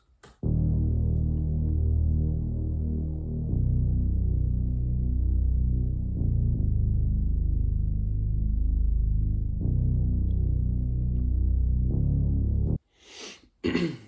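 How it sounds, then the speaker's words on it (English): A hard, classic respace bass pattern from the SoundLab kit, loud and continuous, shifting to a new held note every few seconds and following the root notes of a melody, then cutting off abruptly near the end before a brief noisy burst. "Yeah, respace, super hard, classic bass sound."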